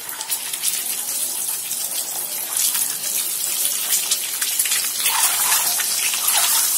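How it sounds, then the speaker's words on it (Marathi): Eggs frying in a pan on a low flame for anda curry, giving a steady, dense crackling hiss that runs throughout, close and fairly loud, with no talk. "आणि आता आपले अंडे टाकूया. फ्लेम एकदम कमी ठेवायची अंडे फ्राय करताना."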